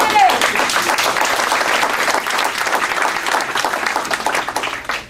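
Audience applause at a town-hall question session with a congressman, dense and steady clapping from a large crowd filling the whole stretch before fading at the end.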